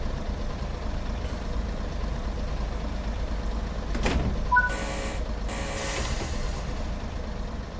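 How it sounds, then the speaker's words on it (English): Train doors slide shut and lock in Train Sim World 4 on a Blackpool branch line, a short mechanical clunk and hiss followed by brief whirring and beeping tones over a low steady engine hum. "Set the doors to locked."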